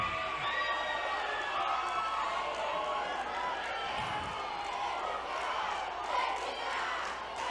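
Students in a classroom during a math exam-prep lesson cheering and shouting together, a steady lively crowd roar of many voices that stays loud throughout.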